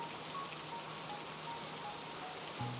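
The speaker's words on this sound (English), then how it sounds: "Hear the sound of the rain hitting the broad green leaves of the bamboo." Heavy, steady rain falls on broad green bamboo leaves, a dense even hiss of drops at a constant level, soft and unbroken.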